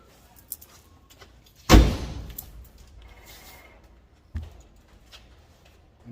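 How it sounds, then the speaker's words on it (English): The driver's door of a 1954 GMC COE truck shuts with one loud, solid metallic slam and a brief rattling decay. A smaller clunk follows a few seconds later amid faint handling noises. "So I moved the camera, so I'll shut the door."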